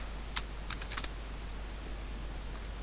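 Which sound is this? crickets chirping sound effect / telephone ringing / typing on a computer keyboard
typing on a computer keyboard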